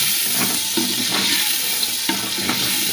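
Potatoes frying in a pan give a steady, close sizzle throughout, with occasional soft scrapes and stirring knocks on top.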